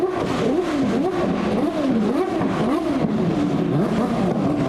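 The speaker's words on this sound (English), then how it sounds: "Oh, rotary noises!" A rotary-engined car at a car show revs repeatedly in quick rising and falling bursts, loud and close, with a buzzy, smooth high-pitched drone throughout.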